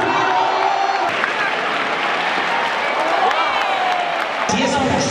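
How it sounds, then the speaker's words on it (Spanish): A large crowd at a bullring during the San Fermín recortadores final claps and cheers steadily throughout, dense and loud, while an excited commentator talks over the noise. "¡Palmas, sí, el verde está en la palma, palmas"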